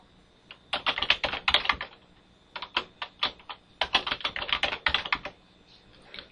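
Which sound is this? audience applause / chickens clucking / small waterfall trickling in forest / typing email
typing email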